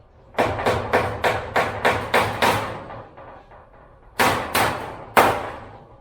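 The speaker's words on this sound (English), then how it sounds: "I just finished stapling up the back of the frame here" A staple gun drives staples into the wooden frame of a chicken tractor. There are seven sharp, evenly spaced snaps in quick succession, a pause, then three more, all loud and close with no talking.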